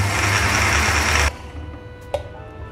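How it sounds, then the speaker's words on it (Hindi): An electric mixer grinder churns onions and water into a smooth paste with a steady, dense whirring roar, then cuts off sharply, leaving a quiet room broken by a couple of small clicks. "पानी डाल के पीसेंगे क्योंकि"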